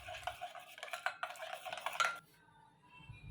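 Spice-coated chicken mixture with coriander powder, garam masala and crushed chili being stirred in a bowl, giving a run of close, scraping and clinking strokes for about two seconds before the sound drops to near silence.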